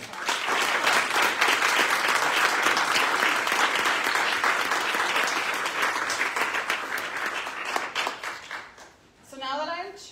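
Audience applause at an annual organizational meeting fills the room, a dense wash of many hands clapping that holds steady for several seconds, then thins and fades out near the end as a voice begins.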